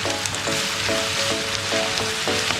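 Masala for a prawn roast sautés in oil in a pan, giving a loud close sizzle cut by a regular run of ringing spatula scrapes against the metal.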